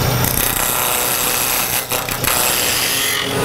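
Wood blank for a microphone being rounded on a lathe, a loud continuous rough scraping hiss of the tool cutting spinning wood, steady throughout with a brief dip midway.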